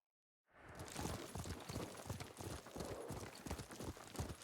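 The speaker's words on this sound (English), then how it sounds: "What a good horse." Horse hooves clip-clop steadily and close by, a rapid rhythm of hoofbeats from a mount ridden in the samurai video game Ghost of Tsushima, set on thirteenth-century Tsushima island, with no talking over it.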